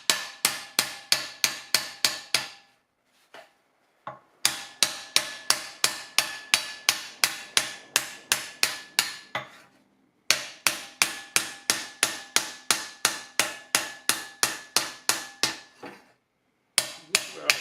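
Rapid, evenly paced hammer blows close a tuck in sheet metal on a door support, several long bursts of sharp metallic strikes up close, separated by brief pauses.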